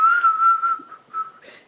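A short, clear whistled tune, a sustained note followed by a couple of brief wavering notes, close and fairly soft.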